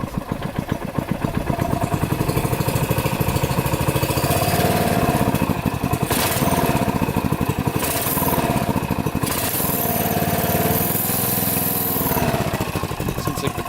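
A Yamaha YZ490 dirt bike engine runs steadily up close, its loud, clattery two-stroke drone lasting throughout with slight rises and dips in revs.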